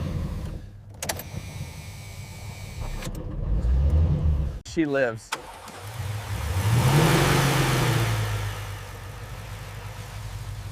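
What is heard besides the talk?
classic car engine starting and revving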